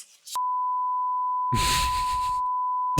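A censor bleep from the video game Not For Broadcast sounds as a single long, pure electronic tone, loud and unwavering, briefly overlaid midway by a burst of noisy game audio before it cuts off.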